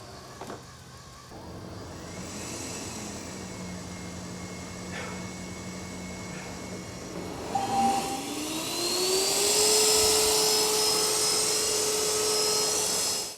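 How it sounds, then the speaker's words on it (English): An Ecovacs Deebot X2 Omni robot vacuum hums steadily, then its motor rises in pitch and loudness into a strong high-pitched whine as the power level climbs to max. "the X2 Omni produces a very loud, high-pitched whine while on max power"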